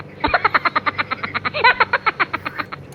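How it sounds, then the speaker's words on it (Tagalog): A frog in Yildiz Park, Istanbul, gives a rapid series of loud, close croaks in an even, pulsing rhythm, about twenty calls in quick succession with a brief bubbly break midway, heard alone without talk. "Ang ingay nung palaka."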